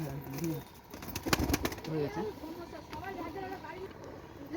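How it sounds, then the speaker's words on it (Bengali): A flock of pigeons takes off in a burst of flapping wings around the middle, with cooing and a voice speaking quietly nearby; faint and fairly distant overall. "এখানে আছে এক কাঁড়ি আছে উঠছে পায়রা"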